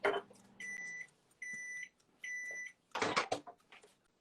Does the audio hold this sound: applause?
no